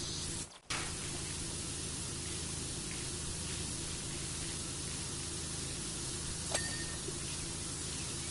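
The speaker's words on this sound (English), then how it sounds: "Power Wash Simulator 2 ASMR or ASMR water spraying Power Wash 2" A virtual power washer in Power Wash Simulator 2 sprays water in a continuous, even hiss, with one brief gap near the start and a faint click later, no voices.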